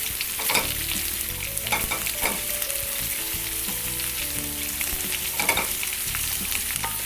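Onion being stirred in a hot pan for Filipino sautéed green beans with beef, a steady sizzle under scraping spoon strokes, close and continuous with no talking.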